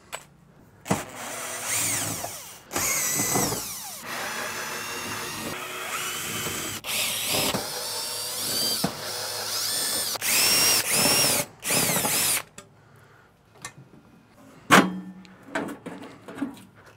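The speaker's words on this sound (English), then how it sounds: "We got a drill gun." A power drill backs sheet-metal screws out of a Yoder Smokers pellet grill's housing in loud, close bursts of whirring that start and stop, with gaps and a few clanks of metal between them.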